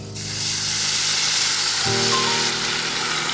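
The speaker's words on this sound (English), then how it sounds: "Deglaze the pan. Oh, we've pulled the stuff off the bottom here." Wine poured into a hot pan to deglaze it bursts into a loud, steady hissing sizzle that holds throughout, with a low tonal shift partway through as the liquid spreads.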